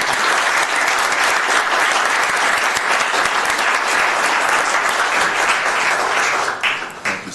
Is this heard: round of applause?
yes